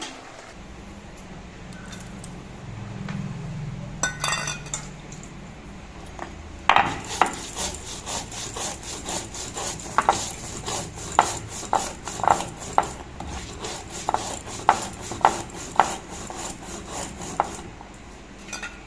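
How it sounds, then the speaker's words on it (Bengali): Roasted cumin is ground into a paste, heard as a long run of rhythmic rubbing and scraping strokes, close and steady, starting softly and then settling into regular repeated grinds with no talk. "এদিকে আমি যে জিরিয়েটা ভেজে নিয়েছিলাম সেই জিরিয়েটা বেটে নিয়ে আসছি"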